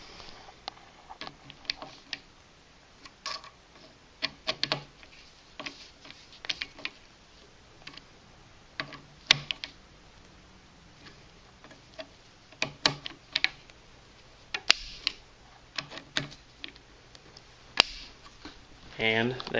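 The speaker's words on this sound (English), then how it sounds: "I'm going to be torquing them about 50 today" A torque wrench tightens scope mount screws to about 50 inch-pounds, producing scattered sharp, close clicks and taps at an irregular pace over quiet background, with talk at times.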